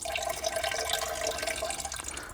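Homemade windshield washer fluid is poured from a measuring container into a bucket, making a continuous splashing, trickling stream close by that tapers off at the end with no talking.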